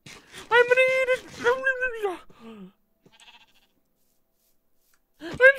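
Sheep bleating in Minecraft, a few wavering bleats near and clear at the start, then a pause and another short bleat at the end, with no talk over them.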